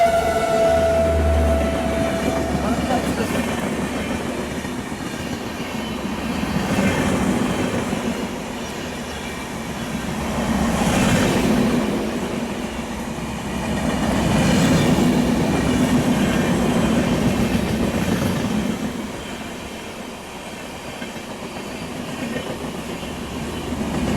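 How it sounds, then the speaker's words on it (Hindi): An ICF first AC special train runs on the rails, a continuous loud rumble heard from inside the coach with rhythmic clatter swelling and fading and a brief high tone near the start. "तो आराम से ट्रेन में बैठता हूँ।"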